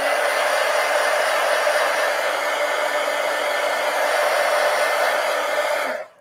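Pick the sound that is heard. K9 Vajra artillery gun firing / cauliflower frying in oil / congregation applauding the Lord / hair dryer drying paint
hair dryer drying paint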